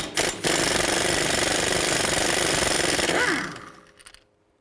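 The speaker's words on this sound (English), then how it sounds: "Now I'm going to remove that screw right there," A loud, steady rattling power tool with a T40 socket runs for about three seconds removing a screw from a 2013-19 Ford Police Interceptor Utility rear wheel hub, then winds down and stops, followed by a couple of faint clicks.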